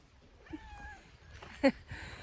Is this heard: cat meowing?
yes